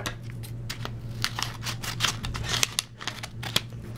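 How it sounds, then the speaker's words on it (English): Scissors cut open a mail envelope holding cards, a rapid series of crisp snipping clicks and paper rustles close by, lasting a few seconds with no voices. "So I got the scissors here, so open them up."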